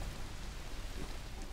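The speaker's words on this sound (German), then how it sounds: "Hey, es regnet." Steady rain in the zombie survival video game Dead Island Riptide, a soft continuous hiss of falling water with low rumbling beneath, quiet and even throughout with no voices.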